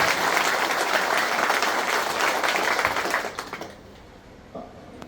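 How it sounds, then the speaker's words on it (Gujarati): A crowd gathered for the founding of a tribal rickshaw union in Umargam, Valsad, bursts into loud sustained applause that rolls on for about three seconds, then thins to scattered claps and fades to quiet. "એકવાર જોરદાર તાળીઓનો ગણગડાટ થઈ જાય"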